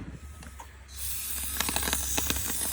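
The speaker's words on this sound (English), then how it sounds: "Just spraying down the bay with some carb cleaner, get some of that gunk build up out of there" Aerosol carb cleaner sprayed into the gunk-coated engine bay of a 10 ft jon boat, a loud continuous hiss starting abruptly after a quieter lead-in, with short rattling bursts as the spray is pulsed.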